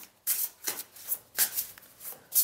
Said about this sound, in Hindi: So I need to shuffle again.